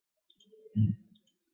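A single computer mouse click during a Windows 7 USB installation lesson, one short, close, soft tap standing alone in near silence.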